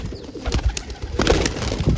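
Pigeons coo in soft, repeated throaty phrases close by, several overlapping calls alongside faint rustling, with no talking.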